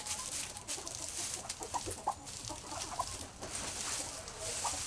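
A mostly black-feathered Liege Asil rooster clucks in short, scattered bursts over a steady outdoor hiss, fairly close, with no talking.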